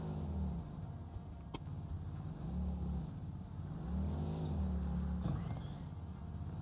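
A player-driven vehicle engine in the video game Satisfactory drones with a low, steady rumble, its pitch rising and falling as it revs, alone and fairly quiet.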